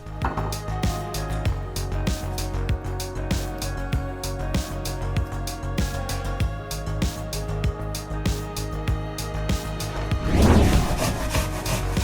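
Apples rubbed against a grater for the base of a honey apple glaze for oven pork ribs: steady, rhythmic rasping strokes, close and fairly loud, with no talking.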